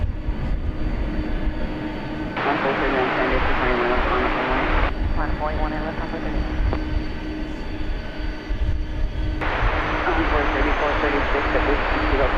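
A jet airliner takes off from DFW airport on a July holiday weekend, its engine roar broad and steady across the whole span, changing in texture as it passes, with faint radio chatter and talk beneath.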